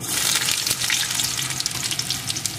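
Chopped garlic and whole spices fry in hot oil in a pan, a steady bright sizzle with crackling pops throughout, close and fairly loud, with no talking.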